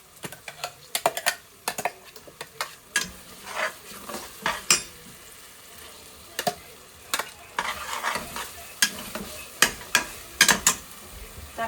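A ground masala paste frying in a pan for mutton curry gives a quiet sizzle broken by frequent sharp clicks and scrapes of a spoon stirring against the metal pot, with no talking.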